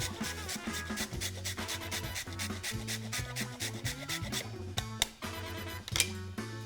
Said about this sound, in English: I've got some dried ginger I'm gonna grate in there.